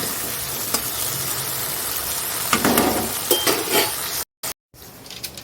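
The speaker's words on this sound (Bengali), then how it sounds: "উচ্ছেটা একটু ভাজাই হবে শুধু আর কিছু করবো না ভাজা খাবো ডাল দিয়ে ভাজা" Bitter gourd frying in a pan, a loud continuous sizzle close by with occasional scrapes and clinks of stirring, broken by two brief silent gaps near the end.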